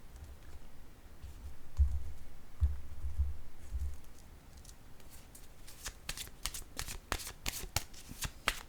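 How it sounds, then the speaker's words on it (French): Tarot cards are riffled and shuffled with soft thumps, then a run of crisp, rapid card snaps and flicks as cards are laid down, close and fairly quiet. "Je vais déposer une carte ici."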